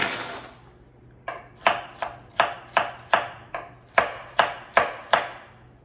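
Carrots being chopped with a knife on a cutting board: about a dozen crisp, evenly spaced chops at a steady rhythm, close and clear with no talking.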